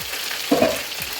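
Vegetables fry in a pan with a soft steady sizzle and a short stir partway through, close by and without talking.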